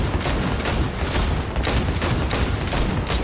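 Dense, loud volleys of gunshots in Cyberpunk 2077, a continuous rattle of firing with no talk.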